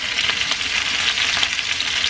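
Head-on shrimp frying in hot oil in a pan for Mexican-style crispy camarón frito, a dense, continuous crackling sizzle with rapid popping bursts throughout.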